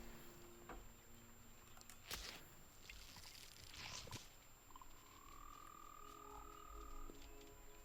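Baby frogs croak in a video game, a few soft, scattered calls over a steady background ambience with occasional light clicks and a longer tonal chirp in the middle.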